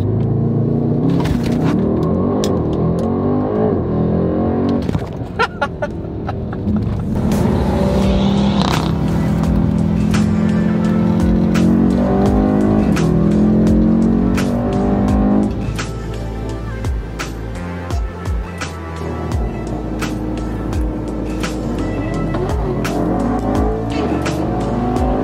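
BMW M2 car launching hard with the engine revving, a loud sustained roar with rising and falling revs throughout, heavy low rumble and brief gaps, recorded close at a car meet.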